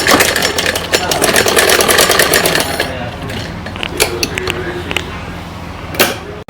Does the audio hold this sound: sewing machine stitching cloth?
yes